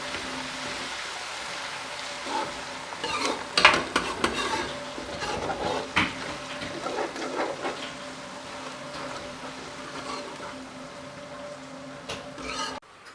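Masala with chopped green chillies frying for karela gosht, a soft sizzle broken by intermittent scraping stirs, louder in bursts midway then settling to a quieter hiss.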